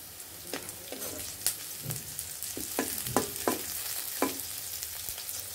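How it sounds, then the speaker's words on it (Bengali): Vegetables hitting hot oil already frying black cumin, for a curry of sweet pumpkin and country shrimp: a steady close sizzle broken by repeated sharp scraping and stirring clatters, no talk. "আমাদের কালো জিরাগুলো ভাজা হয়ে গিয়েছে। এখন আমরা সবজিগুলো দিয়ে দেব।"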